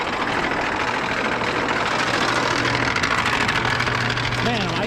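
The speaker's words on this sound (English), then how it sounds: "Electric motor." An electric motor in a woodyard runs off an EBL 2400W portable power station while drawing about 1100 watts, giving a steady, loud, unbroken hum with a constant low tone throughout.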